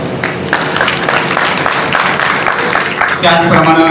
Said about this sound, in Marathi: बाबांचं या ठिकाणी पुष्पहार घालून टाळ्या वाजून स्वागत